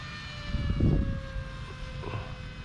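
Performance-modified jet aircraft flying overhead, a faint whining engine tone with a steady high pitch and a soft swelling roar as it passes, fading slightly afterward.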